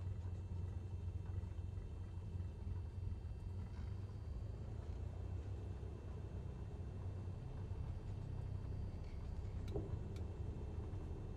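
A light training airplane rolls down the runway under braking after landing, giving a continuous, close low rumble of engine and wheels that stays steady throughout.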